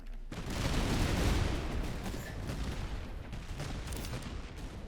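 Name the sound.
musket and cannon fire in the video game Master of Command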